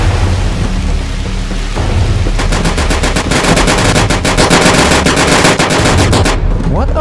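Gunfire in the video game 35MM during a fight in a Russian town, heavy and loud, with a rapid machine-gun burst of dense repeated shots over a constant rumbling background that cuts off abruptly near the end.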